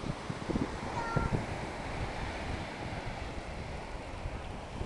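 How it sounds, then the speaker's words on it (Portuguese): Sea waves wash at the beach under steady wind, a continuous broad rush with microphone buffeting and brief soft sounds early on. "Cadê o mar, Bia?"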